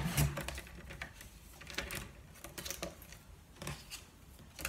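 Card stock being cut for a handmade card, a series of soft crisp slicing and clicking strokes close by, spaced irregularly with quiet gaps between them.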